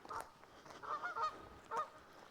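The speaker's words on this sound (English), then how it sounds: "You hear the geese?" Geese honk from a short distance on an island in Loch Awe, giving a few separate nasal calls in a quiet outdoor setting.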